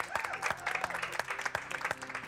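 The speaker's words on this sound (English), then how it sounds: "And a round of applause from the gallery, finally." Applause breaks out from the gallery at a team match, a dense patter of clapping that swells and continues with some crowd noise underneath.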